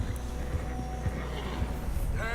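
Horse trotting with steady clip-clop hoof beats in Red Dead Redemption 2, carried under a constant low game soundscape of wind and rumble, with a brief whinny-like tone near the end.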